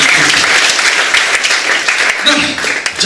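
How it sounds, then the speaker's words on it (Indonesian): A church congregation at a Pentecost Sunday service applauds loudly, a full, steady wash of clapping with voices mixed in. "Tepuk tangan buat Tuhan."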